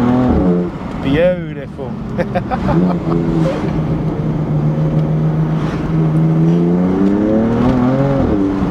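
A BMW M4 Clubsport accelerates hard in second gear with a window down, the engine note climbing steadily and loud throughout, with someone talking over it.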